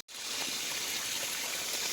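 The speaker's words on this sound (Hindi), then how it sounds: "ये देखिए, ताज़ा ताज़ा पानी के स्रोत यहाँ पर रास्तों में बह रहे हैं।" Fresh spring water streams flow along mountain paths, a steady close hiss and trickle that starts abruptly after a brief silence and continues evenly.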